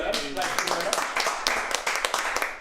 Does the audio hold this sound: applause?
yes